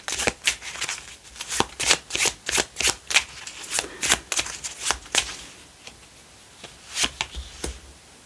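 A deck of playing cards is shuffled and handled by hand before one card is drawn, giving a quick, steady run of close, crisp riffling flicks with no talking.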